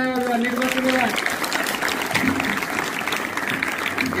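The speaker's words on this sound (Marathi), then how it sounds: "यांच्यासाठी जोरदार टाळ्या वाजवा" Applause for a student quiz team fills the room as a steady, dense patter lasting the whole stretch, with a voice speaking over the start.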